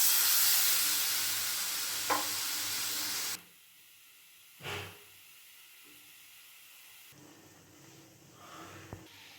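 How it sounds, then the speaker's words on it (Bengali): Water poured into a pan of well-fried spice paste for a vegetarian cabbage dish, giving a loud sizzling hiss that drops sharply, then quieter bubbling and a few faint clinks. "এবার দিয়ে দেব পরিমাণ মতো জল।"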